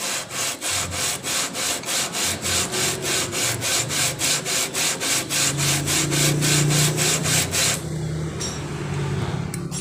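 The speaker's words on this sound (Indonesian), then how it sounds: "Kita amplas sampai permukaannya benar-benar rata." Rhythmic hand sanding of a Honda Vario 125 cylinder head, rough back-and-forth strokes rasping steadily for about eight seconds, then stopping, leaving quieter handling noise.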